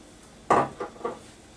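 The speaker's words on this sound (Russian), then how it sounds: "Перемешиваем." A spoon stirs a cottage cheese mixture with candied fruit and raisins in a bowl, producing three short close clinks and scrapes against the dish in a quiet room.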